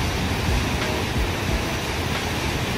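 Jaein Waterfall, about 18 m high and not very strong, pours down a gorge into a sunken pool ringed by columnar basalt cliffs, giving a steady, full rushing roar with no voices.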